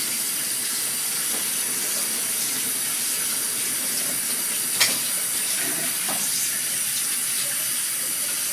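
A kitchen tap runs steadily as a mixing bowl used for butter is washed under it, making a constant close hiss of water with a couple of brief clinks partway through.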